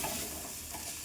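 Oats masala is stirred in a pan, a faint scraping and soft sizzle going on for about a second, with no voices.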